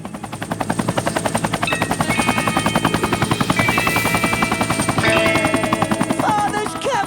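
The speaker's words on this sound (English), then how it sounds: "Father's company chopper!" A company helicopter flies close by, its rotor beating in a fast, steady chop throughout, with brief shouted voices and beeps over it.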